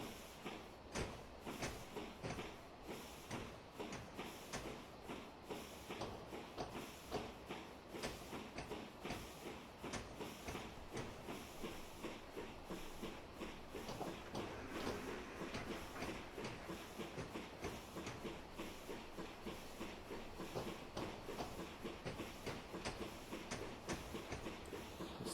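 Train rumbling along the Western Lines of Scotland route in a train driving game, a steady dense roll with rhythmic rail clicks and clatter throughout, fairly even in level and with no talk.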